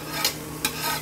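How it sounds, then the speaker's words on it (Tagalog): Margarine sizzles in a pan at the start of a macaroni sopas sauté, a steady close frying hiss broken by two quick scraping stirs. "Magigisa po tayo."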